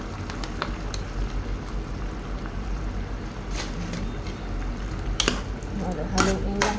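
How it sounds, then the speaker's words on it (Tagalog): Chicken afritada in tomato sauce is stirred in a cooking pot, with soft scraping and bubbling under a low simmer and a few sharper clinks of the spoon against the pot near the end. "Haluin lang natin yan."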